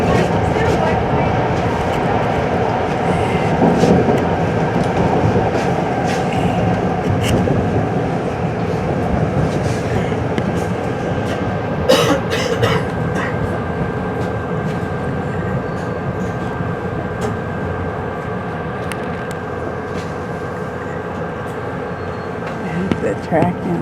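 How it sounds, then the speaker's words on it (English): Metro-North Railroad diesel commuter train pulling out from a station, a steady low rumble and rolling hum with faint clatter heard from on board a cab, continuous and moderately loud, with voices speaking over it. "Look, a diesel one. Just pulling out."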